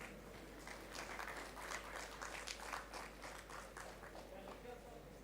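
Audience applause at a live youth consultation event on stage at IIM Raipur, a steady wash of clapping hands from a crowd, moderately distant and sustained for several seconds.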